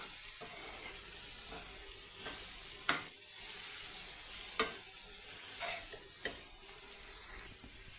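A fish dish frying in a pan with tomatoes added, a steady sizzle running throughout while a utensil stirs and scrapes, with a few sharper knocks against the pan.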